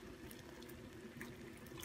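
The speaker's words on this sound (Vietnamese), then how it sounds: "Chỉ cần thả vô nồi nước sôi như vậy, để trong vòng khoảng chừng 1 phút hoặc là 2 phút là được rồi nha các bạn" A pot of boiling water with fried tofu dropped in for blanching, a steady low bubbling and gurgling churn with faint patter on top, continuous and fairly quiet, no talking.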